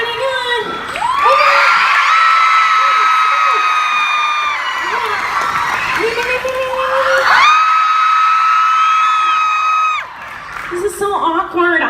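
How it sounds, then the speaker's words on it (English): A live comedy show audience cheers and screams loudly in two long sustained waves, with high-pitched shrieks and whoops from many voices and a short pause between them. "you will cheer the loudest for the daddy that you think I should have to be the daddy"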